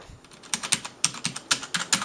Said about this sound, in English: I love all these mechanical buttons. It sounds so cool when you type them